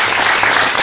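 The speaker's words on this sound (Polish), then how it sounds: "Wielkie brawa jeszcze raz dla tych" A crowd applauding steadily after a primary school pupils' performance, dense and loud clapping filling the whole moment with no voices on top.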